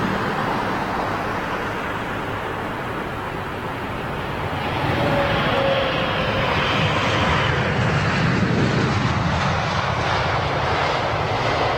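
Rolls-Royce-powered airliner, a triple, at London Heathrow, a loud continuous broadband jet engine roar from nearby that holds steady and grows slightly fuller partway through.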